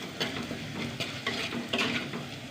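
Curd, seasoned with chili powder and a pinch of turmeric, is stirred in a hot pan, giving a steady sizzle with scraping spoon strokes and faint utensil clinks.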